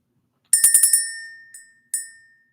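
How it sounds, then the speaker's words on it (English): A small bell rung to clear the energy gives a quick run of five bright, ringing strikes, then two separate single rings, each decaying with a clear lingering tone in quiet surroundings. "Let's ring the bell. Let's clear the energy."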